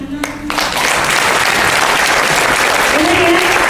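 Audience at a network business event in Bandung breaks into sustained applause that swells after a brief voice at the start and stays loud and dense, with a few voices mixed in.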